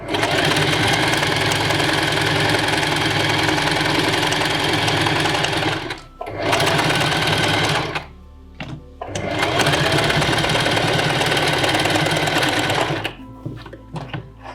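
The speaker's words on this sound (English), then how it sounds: "put your needle down, lift the foot up, pivot, adjust the angle so you meet all the way down" A sewing machine stitches fabric during pattern-making work in steady loud bursts, pausing briefly near six and eight seconds as the needle is set and the piece pivoted, then running on before trailing off into small handling sounds.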